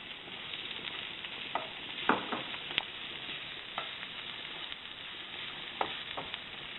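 Garlic cloves and a cup of mushrooms sizzling in a pan, a steady frying hiss with intermittent stirring scrapes and clatters, close and alone without talk.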